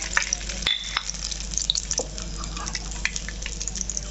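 Bay leaves, cinnamon, cardamom, cloves and peppercorns fry in hot oil for a duck curry, giving a steady close sizzle with scattered crackles and a sharp pop near the start, no voices.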